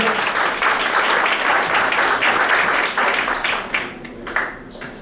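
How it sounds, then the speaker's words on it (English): An audience applauds a volunteer walking onstage at a magician's show, full clapping for a few seconds that thins into scattered claps toward the end. "Give her a round of applause as she comes up here."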